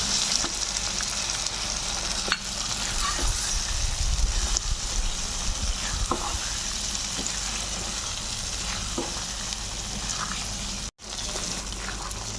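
Paneer cubes frying and being stirred in a pan over low gas flame, a steady loud sizzle with scattered spoon scrapes and taps, close up, no voices.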